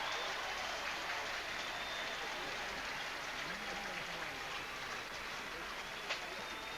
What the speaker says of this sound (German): Großer Jubel auf dem Center Court, das können Sie vielleicht hören.